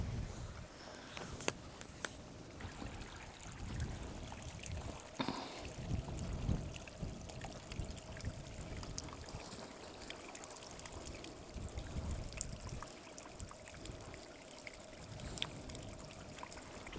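Water trickles and dribbles steadily at Waterfall Spring, an artesian spring, a soft continuous flow heard fairly close with faint outdoor background and no talking.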